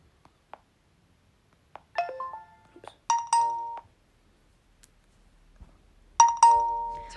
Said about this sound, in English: there we go for notification tones